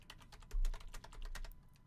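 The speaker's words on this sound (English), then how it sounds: "Let's type that in" Rapid typing on a computer keyboard, a quick run of crisp key clicks with one heavier thump near the middle, close and clear with no talking.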